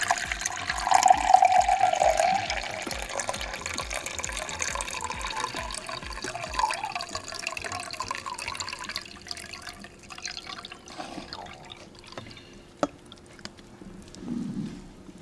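Water pours from a bonsai pot and drains into a cup, a steady trickle with scattered drips that thins out toward the end, fairly close and alone.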